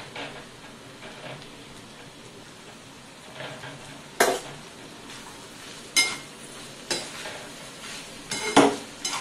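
Tondli (ivy gourd) being stir-fried in a pan with chilli powder and salt: a steady low sizzle runs underneath, broken by several sharp spatula scrapes and clanks against the metal at irregular intervals, close and moderately loud, no voices.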